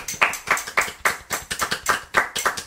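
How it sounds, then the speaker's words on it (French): A small group claps for the loser of a podcast game, a dozen or so sharp, close, fairly even claps in a quick rhythm, with no voices over them. "On pose un applaudissement pour le perdant."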